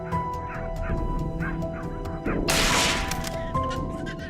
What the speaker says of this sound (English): our dogs pick up the trail and start barking fiercely